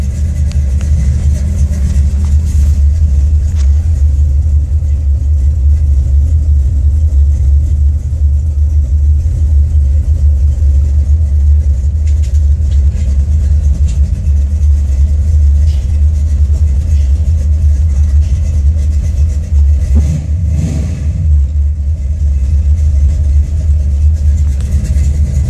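A Buick 455 V8 in a Regal, fitted with a CDS Stage-1 carburetor that runs rich and not yet warmed up, rumbles loudly and steadily at close range, with one brief rev near the end.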